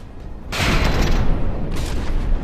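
Heavy booming blasts from high-explosive cramp cannons in From the Depths, a loud bang at the start followed by rolling, crackling fire and a second burst later, close and forceful with no voices.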